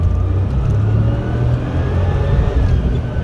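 A 993-generation Porsche 911 Turbo on the road, its engine a loud, close, deep rumble that swells as it accelerates, with a rising whine threading through and a brief easing before pulling again, no talk.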